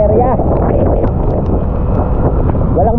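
Strong typhoon wind sweeps across an open area with no trees to block it, a loud, constant roaring buffet that fills the whole stretch, with faint voices now and then.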